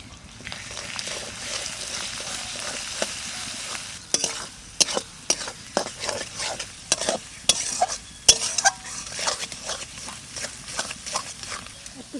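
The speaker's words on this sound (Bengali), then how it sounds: "এবার কষাবো ভালো করে।" Chicken pieces with coriander, cumin, salt and turmeric sizzle and fry in a pan while being stirred, with steady frying hiss under repeated sharp scraping and clattering strokes, all close and without talk.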